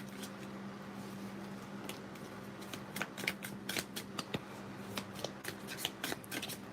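Tarot cards are shuffled by hand, giving soft, quick riffling snaps and flutters in irregular clusters, close and quiet against a faint steady hum.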